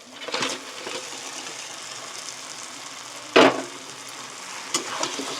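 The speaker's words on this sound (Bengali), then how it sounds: "দিয়ে একসাথে কষিয়ে নেবো সব" Fried crabs stirred and sautéed in a pan for a spicy crab curry, a continuous close sizzle broken by sharp scraping strokes of a spatula, one loud clank midway, with no talk.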